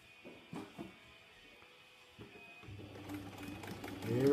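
A sewing machine makes a few faint clicks and taps, then starts up and runs with a rising, rapid mechanical whir that grows louder and closer toward the end.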